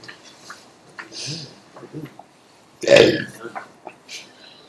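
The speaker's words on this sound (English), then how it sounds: "You should say a word when you burp, and then we have to guess what it was." A single loud burp erupts from a young woman partway through, framed by casual conversation among people talking before and after it.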